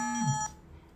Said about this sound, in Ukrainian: А хто це вам телефонує серед ночі?